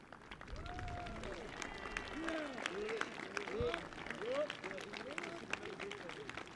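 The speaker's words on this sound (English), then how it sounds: "And now you should all applaud each other." Applause rises from an audience at a college graduation ceremony, a moderate, sustained patter of clapping mixed with crowd murmur and voices, with some shouts and cheers.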